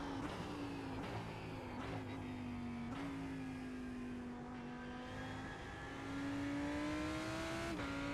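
Porsche engine in a racing video game, a steady droning hum that holds its pitch with small dips at gear shifts and a rise toward the end, continuous and alone without talk.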